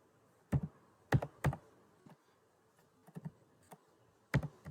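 Computer keyboard typed in scattered bursts, a few sharp close key clicks and clacks separated by pauses, alone without talk.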